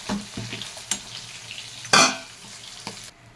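Fried fish crackles in hot oil in a pan, a steady sizzle broken by spoon scrapes and one loud burst of hissing spatter near the middle, close and clear.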